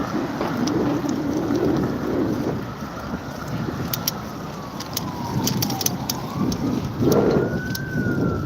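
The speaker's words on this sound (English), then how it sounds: "Barnabas Hospital here is here too, so you will hear a lot of sirens." Emergency vehicle sirens wailing near a hospital in the Bronx, New York City, a rising and falling tone over dense street traffic rumble and wind, with sharp clicks scattered on top.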